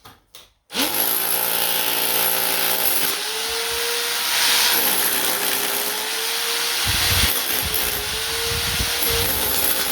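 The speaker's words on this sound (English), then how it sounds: "Getting harder now to chisel it out." A power tool chisels out a cavity house wall for a DIY kitchen water pipe run, a loud continuous grinding hammer roar with small shifts in pitch, close and alone after a few brief knocks at the start.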